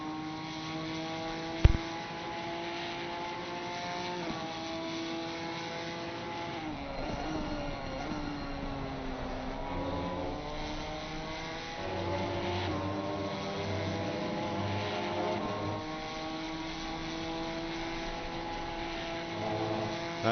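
A Ginetta race car engine drones from the onboard view in a racing video game at Watkins Glen, a steady buzzing note that rises and falls through gear changes, loud and alone with no talk.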